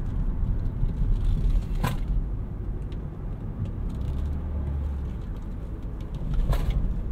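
A 2015 Chevrolet Cruze diesel cornering on the road, heard from inside as a steady low engine and road rumble that swells briefly now and then, with no talk over it.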